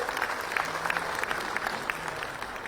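An audience at the MP Growth Conclave in Indore, a government event with Chief Minister Mohan Yadav, breaks into steady applause, dense and continuous clapping from a large crowd throughout.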